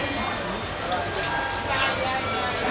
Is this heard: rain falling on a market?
yes